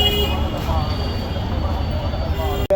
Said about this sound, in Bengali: হচ্ছে মেট্রো